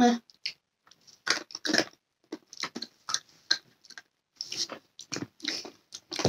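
Close crunchy bites and chewing on assorted odd snack treats, irregular sharp crackles spaced through a quiet room, with a couple of people murmuring between bites.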